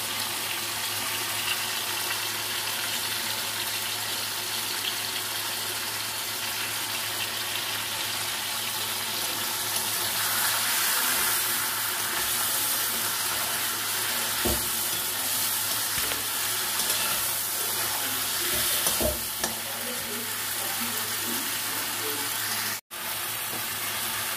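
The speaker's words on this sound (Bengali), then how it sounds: "দিয়ে এটাকে একটু ভালো করে কষাবো" Crab sautéing in a pan with salt and turmeric makes a steady, continuous sizzle and frying hiss throughout, with occasional faint stirring scrapes and no talking.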